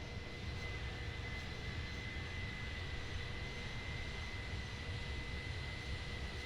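Airbus A310 jet engines heard from outside the aircraft in a flight simulator game, a steady, loud broadband roar with a faint high whine, continuous and unbroken with no talk.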